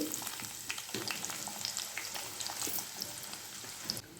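Onions frying in oil with tempering seeds for a Telugu kasara kayalu fry, a busy crackling sizzle full of small pops and spits, fairly close and without speech.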